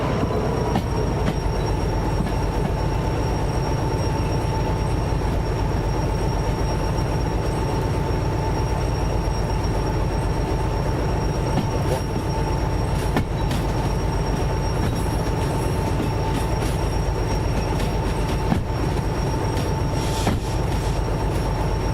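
Train rolling along rails in the simulator Derail Valley as it nears some sidings, a steady loud rumble of wheels with faint clicks and occasional squeals, no talking.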